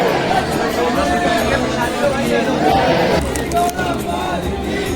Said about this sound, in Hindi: लेकिन हाँ अंदर गली से श्रद्धालु हैं काफ़ी